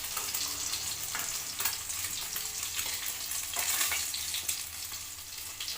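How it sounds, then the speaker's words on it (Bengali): Parshe fish frying in hot oil, a continuous crackling sizzle with bursts of spitting, heard up close and alone without any talk. "আমি বাকি মাছগুলোও আমি এইভাবেই ভেজে নেব"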